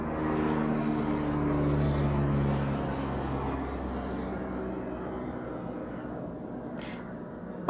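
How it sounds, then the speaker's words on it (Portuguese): A propeller airplane passing overhead makes a steady, broad engine drone that swells and then slowly fades, heard alone with no talk. "Essa daqui é o avião passando."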